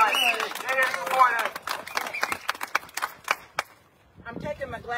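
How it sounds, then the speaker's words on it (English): A rally crowd of city workers claps in a burst of scattered hand claps that fades to quiet, following a loud voice addressing the crowd. "Let's clap everybody up for the volume."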